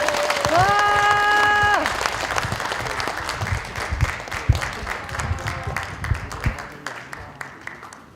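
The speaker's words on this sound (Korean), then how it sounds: "서동영 의원님께 다시 한번 박수 한번 부탁드리겠습니다" An audience applauds at a lawmaker's parliamentary report meeting with local residents, a full, sustained round of clapping close by that slowly fades, with a brief voice sounding at the start.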